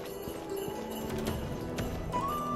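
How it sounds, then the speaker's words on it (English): Horse hooves in the video game Genshin Impact, a steady soft clip-clop of footfalls under faint game music and ambient tones, with no voices. "Oh, it's a horse."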